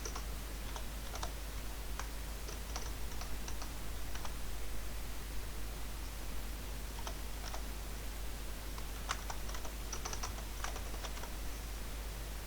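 Someone typing on a computer keyboard while writing code: irregular clusters of light key clicks tap close by over a constant hiss, with short pauses between bursts and no speech.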